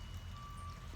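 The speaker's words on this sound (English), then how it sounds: "that is a garbage truck" A garbage truck across the street sounds a faint, steady reversing beep from a distance over low background rumble.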